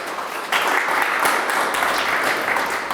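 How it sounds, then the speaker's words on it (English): Audience applause at a London arts pitching event, a dense steady burst of clapping that swells after a brief quieter start and carries on to the end. "Big round of applause for David."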